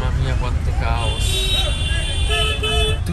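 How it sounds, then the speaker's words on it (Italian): Several car horns honk and toot repeatedly amid busy road traffic noise in India, with people talking underneath. "Tutti sti clacson mi tirano scemo."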